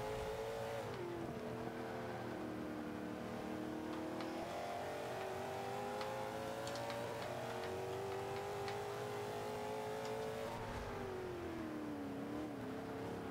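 Car engine in Forza 5 revving under careful throttle, a steady droning motor tone that rises and dips with throttle, continuous and fairly close with no talk.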